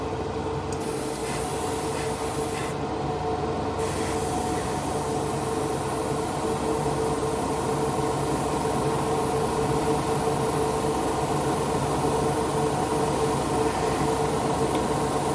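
Airbrush laying down a wet coat of primer, a steady hissing spray with a continuous mechanical hum underneath running through the whole stretch, with no one speaking.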